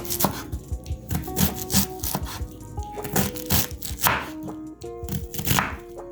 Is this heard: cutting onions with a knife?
yes